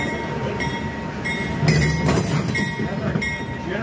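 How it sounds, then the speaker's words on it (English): A railroad generator car rolls past at a railroading weekend with a steady rumble and rail noise, joined by faint wheel squeal and clatter, close and continuous. "our generator car."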